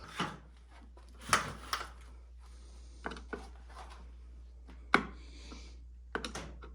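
Old, crusty screws come out of the cover of a hard-starting Honda generator, giving sparse close clicks, taps and scrapes of a tool separated by quiet gaps, with no talk.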